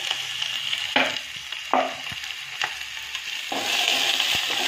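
Onion frying in a pan after mustard seeds have popped, a close crackling sizzle with a few scraping stir strokes, growing slightly louder toward the end, no talking.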